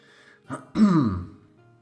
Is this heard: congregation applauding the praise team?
no